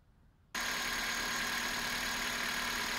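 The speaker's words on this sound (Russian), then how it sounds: "Значит, идем и запускаем двигатель." A Kia Rio III engine cranks and catches after half a second of quiet, then settles into a steady, loud idle with a constant whine from the accessory belt running over the pump and alternator.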